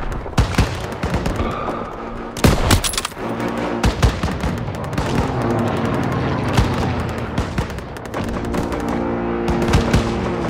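Battle gunfire in the World War II shooter Call of Duty WWII: loud, rapid bursts of rifle and machine-gun shots with sharp cracks and heavier booms, nearly continuous across the whole stretch.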